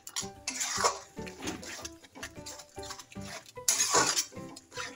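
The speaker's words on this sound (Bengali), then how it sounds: "আমি অল্প একটু জল মিশাবো, মিশিয়ে এটাকে ভালো করে নাড়াবো" Metal spatula scraping and clanking in a pan of tomato chutney as a little water is stirred in, giving irregular close-up knocks and scrapes with wet, sloppy bursts in between.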